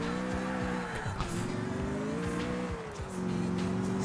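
A new car in the video game GTA IV is driven, with a steady engine drone that rises and falls with throttle changes over a low rumble, close and continuous without talk.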